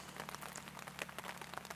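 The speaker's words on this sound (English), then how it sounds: "the pitter-patter of the raindrops hitting my umbrella" Raindrops patter steadily on an umbrella in a faint, close, continuous pattering with irregular soft taps under low background hum.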